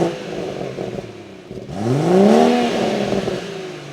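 A completely stock BMW M140i with the B58 engine revs once from idle, its rising tone swelling and falling back, recorded close up without talking.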